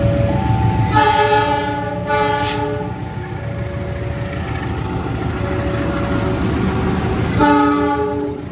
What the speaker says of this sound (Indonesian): Kereta new generation lagi ya teman-teman, stainless steel.